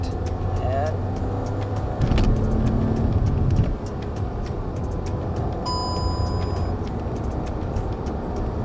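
A Hyundai Verna with paddle shifters accelerates from inside the cabin. A rising engine note builds for a few seconds, then drops away at a quick gear shift into a lower steady road rumble.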